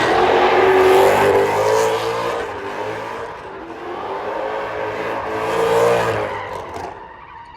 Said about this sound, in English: when you floor it, it just roasts the tires